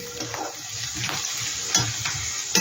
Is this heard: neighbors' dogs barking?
no